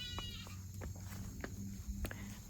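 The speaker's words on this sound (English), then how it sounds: "he's talking about the baby goats." Several short bleats from young goats sound at a distance over a steady background hum, coming in scattered bursts.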